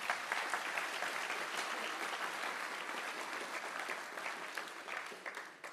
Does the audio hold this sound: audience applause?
yes